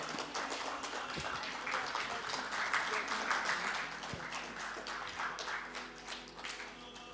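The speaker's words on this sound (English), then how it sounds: "I think our applause could be slightly louder." An audience at an architecture forum technical session applauds, giving dense, sustained clapping of moderate loudness that slowly thins toward the end, with a voice briefly audible.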